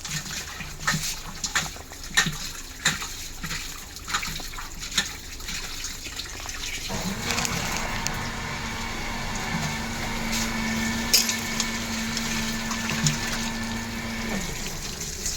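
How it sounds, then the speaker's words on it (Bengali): Tap water runs steadily over raw chicken being washed, a continuous gushing stream that settles into a fuller, even flow midway, with faint handling knocks and no talk. "এই দেখো আমাদের চিকেন ধোয়া হচ্ছে"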